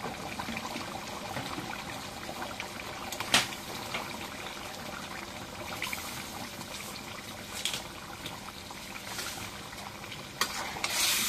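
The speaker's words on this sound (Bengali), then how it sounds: "আলু দিয়ে একটু কষাই নিই।" Potatoes fry with mutton in a pan, giving a continuous sizzle and bubbling with occasional stirring clatters and scrapes, close and unaccompanied by speech.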